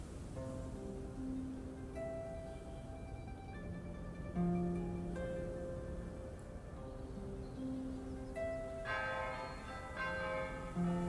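Bell towers in the video game Fabledom ring in overlapping, sustained tones, steady and continuous over a soft ambient background with no talking.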